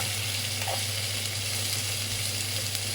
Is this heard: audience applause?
no